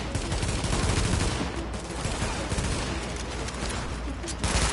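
Sustained, dense gunfire from Tom Clancy's The Division, with rapid overlapping shots and automatic bursts filling the whole stretch at steady loudness, a few sharper cracks standing out near the end.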